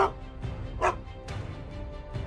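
A dog barks in the Call of Duty Ghosts video game, several short close barks and yips spaced across a few seconds.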